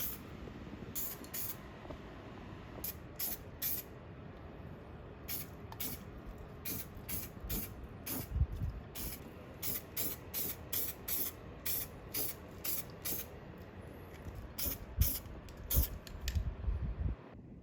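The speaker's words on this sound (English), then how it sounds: "After removing any signs of surface rust down to bare metal, we're now priming it ready for paint." Short repeated hissing bursts of a spray can apply primer to a car's engine bay after the surface rust is removed. The bursts come in a steady rhythm of quick sprays with small pauses between them, close and fairly quiet, with no talk.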